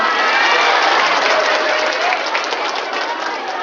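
An audience at an Islamic lecture marking the NU anniversary breaks into dense, loud applause that holds steady before easing off slightly, with a few cheers mixed in.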